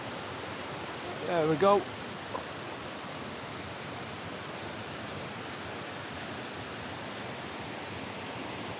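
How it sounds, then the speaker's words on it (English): Steady broadband roar of the waterfall at Triberg, Germany, a constant rushing wash heard from its lower end, with someone speaking briefly near the start over it. "this is the bottom end of the waterfalls where we're going"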